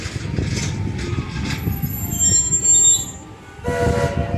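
A Walt Disney World Railroad train rolls into Fantasyland Station with a steady low rumble and clatter, a high metallic squeal rising midway, then brakes and settles as it comes to a stop.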